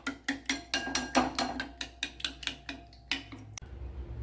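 Eggs and salt being beaten in a bowl for egg perattu, a rapid run of regular clinking strikes of utensil against the bowl, close and steady, then a brief pause and a final knock.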